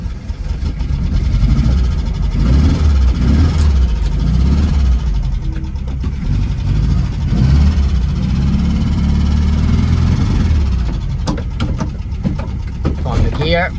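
A VW Beetle engine runs steadily while the car is driven, a loud, continuous low mechanical drone with brief shifts in pitch and some rattling near the end.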